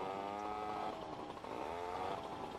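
Motorcycle engine in GTA Vice City droning steadily and loud throughout, with a rough buzzing tone that rises and dips slightly in pitch and no voices over it.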